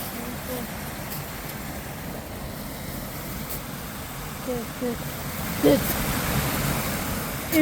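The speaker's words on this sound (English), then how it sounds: "Chris, check out this waterfall" A waterfall on a winter hike gives a steady broadband rush of falling water, with a few brief voices and small sounds breaking in over it.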